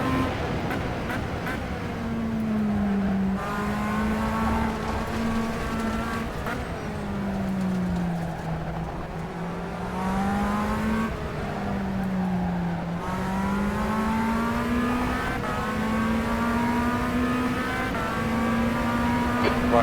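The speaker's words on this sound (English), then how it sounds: "let you guys listen to the engine." A Tatuus USF-17 race car engine in rFactor 2 at Palm Springs Road Course drones continuously, its pitch rising through the gears and dropping on shifts, with repeated revving cycles and no voices.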